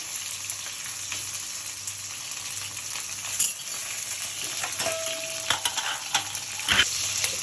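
Pieces of bitter gourd fry in hot mustard oil for shukto, a steady close sizzle with occasional light clinks and scraping from stirring throughout.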